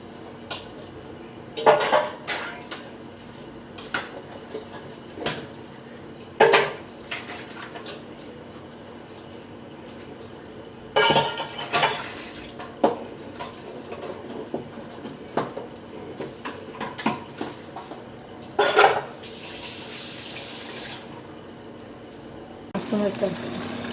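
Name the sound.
washing dishes under running tap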